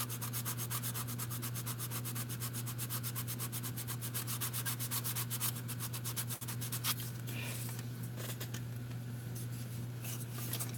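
Filler on a model car body is sanded by hand with rapid, rhythmic back-and-forth strokes, a close, continuous dry rasp that softens and turns more irregular partway through.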